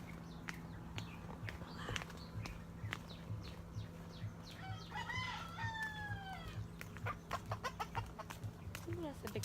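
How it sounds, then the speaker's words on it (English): A large rooster crows from moderately close outdoors in the Bahamas, its rising-falling call standing out mid-clip above a steady low hum, with scattered clucks and light background noise around it. "Ooh, that's a big rooster."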